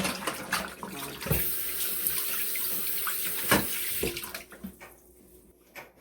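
Tilapia fish washed by hand under a running kitchen tap: a steady, close rush of flowing water with a few sharper splashes and clatters, fading toward the end.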